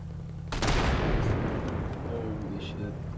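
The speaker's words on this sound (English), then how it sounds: "Welcome to explosions." A loud explosion goes off in a video game with a sudden blast, then a long rumbling roar that slowly fades. No one speaks.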